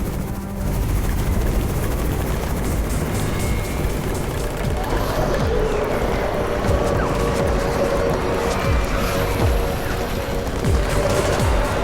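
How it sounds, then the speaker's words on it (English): Helicopter in the zombie-siege video game Undawn, a loud continuous rotor drone under gunfire bursts and crashes, with a voice briefly heard in the battle din. "It's the Raven's chopper!"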